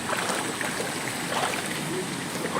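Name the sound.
river flowing as people wade across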